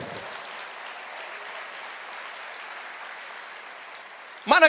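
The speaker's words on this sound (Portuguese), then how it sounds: "Aplauda ao Senhor." A church congregation applauds during a sermon, a soft, even wash of distant clapping for several seconds before a voice cuts in at the end.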